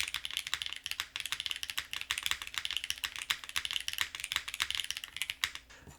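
Steady typing on a custom 1800-layout Athena mechanical keyboard with a force-break-modified spacebar, giving quick closely miked clacks in an uneven flowing rhythm, fairly quiet, with a faint low hum underneath and no talking.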